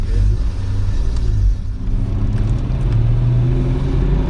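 A 1956 Mercedes-Benz 220S engine runs loud and close, a steady low rumble that swells as the car pulls away, with no voices over it.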